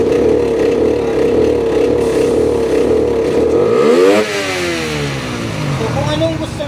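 Pit bike engine (Raider 150 fuel-injected with a tuned ECU) held at a loud, steady high rev as the throttle is squeezed, then the pitch sweeps down and settles into a lower idle, with someone talking over it.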